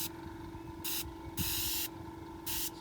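Airbrush spraying paint onto a T-shirt, heard as short hissing bursts over a steady compressor hum, close and quiet.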